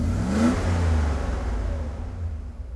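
A tuned Mercedes 500SL with CIS injection accelerates close by, its engine note rising smoothly in a steady climb before easing off and fading in the final second.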